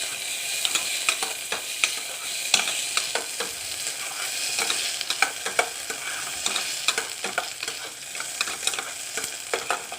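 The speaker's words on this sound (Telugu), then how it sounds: "ఆలుగడ్డ, కొంచెం వేయించుకుంటారండి" Potatoes fry and sizzle in a pan for a sabudana khichdi, a steady hiss broken by frequent scraping stir clicks, close up and with no talk.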